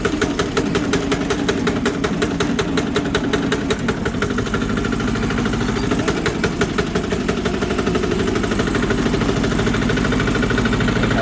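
Chinese diesel engine idling on a small tractor, a loud, continuous chugging rumble with rapid regular knocking pulses that keeps an even pace throughout.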